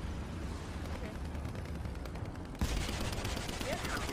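A tank in the War Thunder video game fires, with a sudden loud gunshot burst midway after a stretch of rumbling battle noise, and a voice can be heard in the background.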